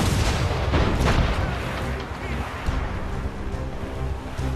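Ship cannons fire in a naval battle in Assassin's Creed Rogue, with heavy booms rolling one after another over a constant roar of battle and sea, loud and close throughout.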